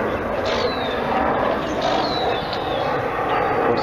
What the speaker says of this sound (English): Of course, there's a plane going by.